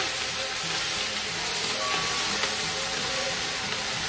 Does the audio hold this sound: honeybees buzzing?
no